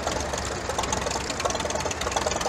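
A polished 1951 Oliver 66 tractor with side panels and a four-cylinder engine runs steadily nearby during an outdoor tractor parade, a continuous rough, knocking engine rumble with no one speaking.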